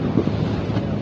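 A yacht cruising on the water in Dubai at the start of a tour, with steady wind buffeting the microphone over a low rushing wash of water, continuous and close.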